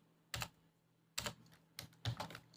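Keys clatter on a computer keyboard as code is typed in VS Code, four short, crisp bursts of clicks separated by brief pauses, close and alone with no talking.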